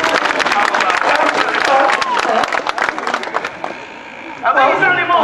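An audience applauds at a sea lion show, with dense crowd clapping close and loud that thins out, then a brief burst of clapping returns near the end, mixed with crowd chatter.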